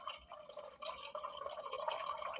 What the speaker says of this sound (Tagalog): start na tayo maglagay sa ating tubig